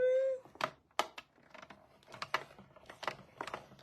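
Manual die-cutting and embossing machine cranked by hand to feed card through, irregular close clicking and ratcheting knocks with gear-like rattles.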